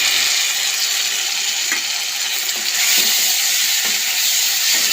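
Mustard seeds, curry leaves, onion, chilli and coriander fry in hot oil as a loud, constant hissing sizzle, with a few soft spoon knocks and stirring scrapes scattered through it.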